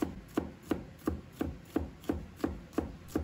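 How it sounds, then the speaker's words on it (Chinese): A knife chops chili pepper into small dice on a cutting board, crisp, evenly spaced taps repeating about three times per second, close and clear with no talking. "再切成小粒。"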